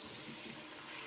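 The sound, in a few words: filling a watering can with water from a tap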